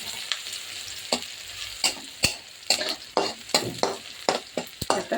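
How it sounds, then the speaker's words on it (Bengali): Onion and garlic sizzling in hot oil for a Malabar spinach stir-fry, a continuous close hiss punctuated by a rhythmic series of sharp spatula scrapes and clinks against the pan. "পুঁই শাক ভাজির জন্য পেঁয়াজ আর রসুন দিয়ে দিয়েছি।"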